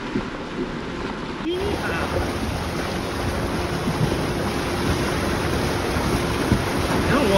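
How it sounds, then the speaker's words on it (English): A Jeep plows through a water crossing on a mountain off-road loop near Tincup, Mirror Lake and St Elmo, with steady rushing, splashing water and wind buffeting the microphone throughout, and voices talking over it. "Who says a Jeep can't go floating away? This is definitely a water obstacle"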